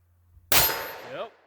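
A Smith & Wesson 66-2 .357 Magnum double-action revolver fires a single sharp, loud shot at an outdoor range, with a short ringing tail that fades out.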